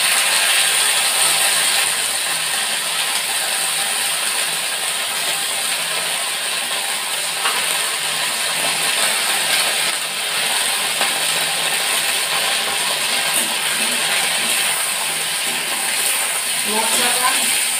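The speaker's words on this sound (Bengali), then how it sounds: "মশলাটা আর আলুটা খুব সুন্দরভাবে নাড়াচাড়া করে এখন করতে থাকলাম।" Potatoes coated in a ground paste of cumin, ginger and chili are stirred in hot oil for a cauliflower-potato dish, giving a steady, close hiss with light scraping and rattling clicks throughout.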